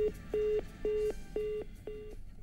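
A phone-in caller's telephone line cuts off during a farming call-in broadcast, leaving a repeating electronic tone: about five evenly spaced beeps, each lasting a fraction of a second, heard alone and fairly clear.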